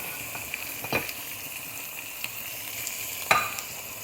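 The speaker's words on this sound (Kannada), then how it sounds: "ಇವಾಗ ತಿರುಗಿಸ್ಬೇಕು, ಚೆನ್ನಾಗಿ ತಿರುಗಿಸ್ಬೇಕು." Pepper liver fry is stirred in a sizzling pan under a steady, moderate hiss. A spoon scrapes and knocks against the metal now and then, with two sharper clinks standing out.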